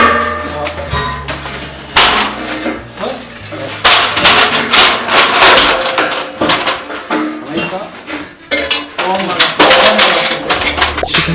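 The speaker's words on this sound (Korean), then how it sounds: "세지렛대를 사용해 조금씩 빔을 안쪽으로 넣어줍니다" Steel H-beam being worked into place with a crowbar during a weekend cabin remodel, with repeated loud metallic clanks, knocks and scraping thuds at irregular intervals, close up and sharp.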